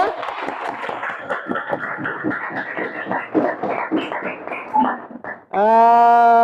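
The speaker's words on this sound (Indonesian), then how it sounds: "tepuk tangan untuk kelompok 3" A classroom full of people clapping steadily for several seconds, cheering voices mixed in, ending abruptly as a sustained electronic tone starts.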